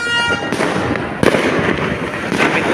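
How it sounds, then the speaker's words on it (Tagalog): New Year fireworks for 2024 burst repeatedly in the distance, sharp cracks and rumbling pops overlapping against a noisy outdoor background with a faint voice. "Oy, may fireworks."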